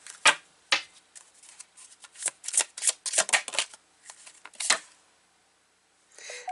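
Tarot cards being shuffled by hand up close, a run of crisp papery riffles and soft slaps in irregular bursts, then a brief pause and one last flutter, with no talking.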